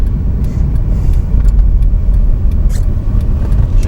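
A manual car driving in third gear on a snowy road, steady close engine rumble and road noise with no pauses.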